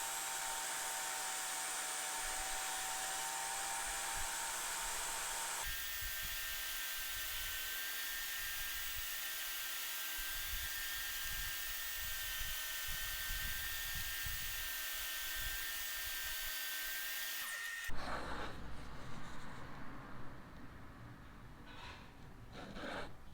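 Table saw cutting a groove down the center of a piece of wood for a picture frame, a loud continuous high whine that shifts pitch partway through as the blade works, then winds down near the end.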